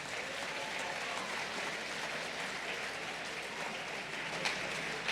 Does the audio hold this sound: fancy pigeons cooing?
no